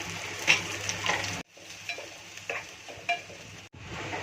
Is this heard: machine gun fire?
no